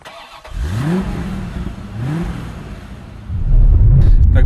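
A 2018 Mitsubishi Outlander Sport engine revs up twice with rising pitch while accelerating, then settles into a louder, steady driving rumble.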